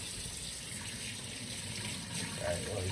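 A faucet runs hot water for tea as a steady, faint hiss and splash that continues without pause. The water sounds close, with a slight rise near the end.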